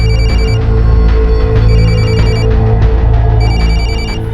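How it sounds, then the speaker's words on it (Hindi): A mobile phone ringtone repeats loudly and steadily from inside a locked house, a bright electronic tone playing over and over with no talking. "फोन की आवाज तो अंदर से आ रही है।"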